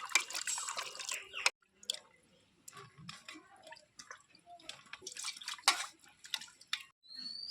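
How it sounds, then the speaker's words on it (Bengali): Tap water splashes and drips over freshly cut potatoes being rinsed for a Bengali rui fish curry, with irregular wet bursts and short pauses, close and moderately loud, no voices. "আলু কাটা হয়ে গেছে, এবার আমি এগুলো ধুয়ে নেব।"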